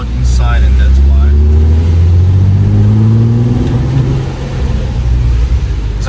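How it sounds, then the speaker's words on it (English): Loud, droning cabin noise inside a moving Golf 5 R32 with the interior insulation removed, a deep engine and road rumble with rising tones as it accelerates, steady throughout with no talking. "the car is super loud inside"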